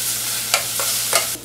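Masala being stirred and sautéed in a pan, with a steady sizzle of frying under three or four short scraping stir strokes, close and fairly loud, no voices.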